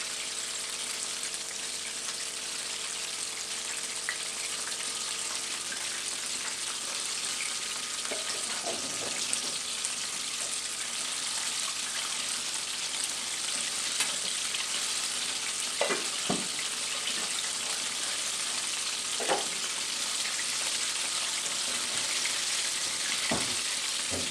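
Chicken pieces half-fry in hot oil for crispy chicken, giving a steady, even sizzle close by with a few soft stirring clicks and bumps scattered throughout and no talking.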